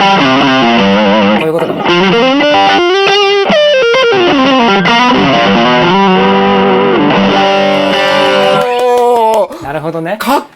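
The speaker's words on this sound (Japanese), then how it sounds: "これちょっとブーストしてみますね、 TS で" Electric guitar played through a Zoom multi-effects stomp unit, boosted by a TS-style overdrive, gives a thick, saturated distorted tone with sustained chords and melodic bends, loud and continuous, while a voice speaks briefly near the end.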